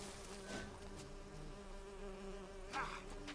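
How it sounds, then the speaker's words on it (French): Bees buzz in The Witcher, a quiet steady insect hum with faint wingbeat whine drifting around the player and no voices over it. "Pourquoi il y a des abeilles?"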